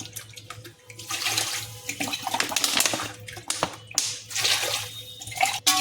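Water is poured from a glass into a cooking pot, eight glassfuls in all, for chicken mandi rice. It makes a steady splashing, gurgling pour with brief pauses between glassfuls, close and moderately loud, and no one speaks.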